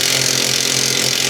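A power tool whines and buzzes loudly and steadily, close by, with no pauses, during a Mazda Miata teardown.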